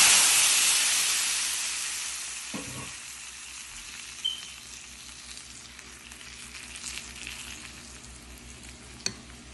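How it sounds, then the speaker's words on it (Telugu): Sambar tempering with asafoetida frying in hot oil, a loud sizzle at the start that settles into a quieter steady crackle, with a few stirring clinks and no voices. "సాంబార్ పోపు కూడా వేగుతుంది చూడండి"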